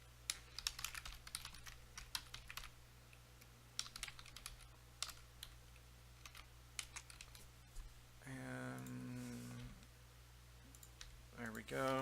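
Code being typed on a computer keyboard, with bursts of quick, close key clicks in an uneven rhythm, broken by a pause and a short tonal hum near the end.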